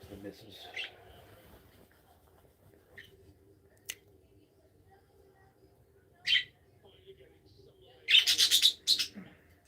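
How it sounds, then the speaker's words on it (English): Birds chirp in short, sharp bursts nearby, isolated tweets at first and then a quick cluster of calls near the end, with a faint voice and low background hum between them. "If you hear that noise, that's the birds."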